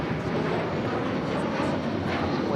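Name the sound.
airliner arriving at LAX, flight from Morelia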